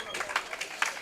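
An audience at a junior weightlifting session applauds after a failed lift, a short burst of scattered hand claps with a voice speaking over it.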